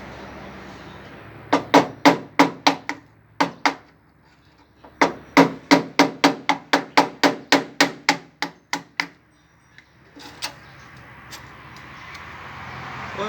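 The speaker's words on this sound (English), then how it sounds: "Wire brush hammer." Metal wire-brush hammer strikes on a Ford Escort Mk1 in Thailand, sharp close knocks in quick rhythmic bursts of about five, then a longer run of around fifteen, with a few scattered taps after.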